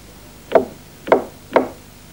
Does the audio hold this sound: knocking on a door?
yes